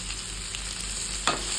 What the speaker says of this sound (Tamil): எல்லாத்தையும் போட்டு நல்லா பச்சை வாசனை போகிற அளவுக்கு வதக்கி எடுத்துக்கோங்க.